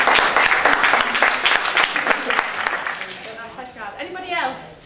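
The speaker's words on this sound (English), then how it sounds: "Woo, round of applause." Applause from a compassionate-care workshop audience, brisk clapping that swells early and fades over a few seconds, then a speaker's voice takes over as the clapping dies out.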